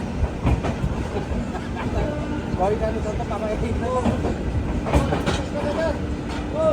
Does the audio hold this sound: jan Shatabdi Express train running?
yes